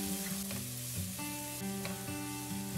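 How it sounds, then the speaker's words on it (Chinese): Ginger, garlic and vegetables stir-frying in leftover oil after pan-frying Spanish mackerel, a constant close sizzle punctuated by the spatula's scraping and clinking against the wok. "先放入姜蒜炒香，炒香以后再倒入其他的配菜，继续把其他的配菜炒熟炒香"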